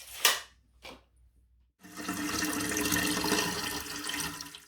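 Water pours steadily into a British Berkefeld gravity water filter with a close, splashing rush that lasts several seconds, after a couple of brief clunks.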